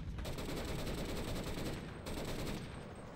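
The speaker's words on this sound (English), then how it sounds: "Shooting with a machine gunner." Sustained automatic gunfire from a machine gunner in the World War II shooter Enlisted, a dense, continuous rattle of rapid shots that stays loud and unbroken throughout with no pauses.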